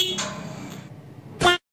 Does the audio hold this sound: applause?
no